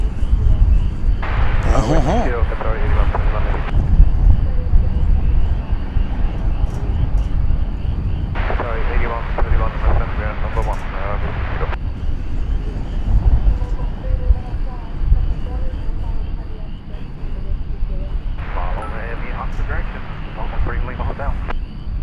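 An airplane on approach to runway 18 Left at Dallas/Fort Worth Airport gives a steady, loud engine roar that holds throughout, while voices talk in short stretches over it.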